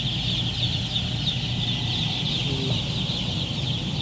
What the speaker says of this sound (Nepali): यो चाहिँ मासु खाने कुखुरा हो